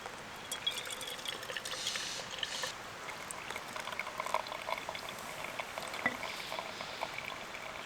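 Soft continuous trickle of water being poured while making coffee at a wet morning campsite, faint and steady with light outdoor background ambience.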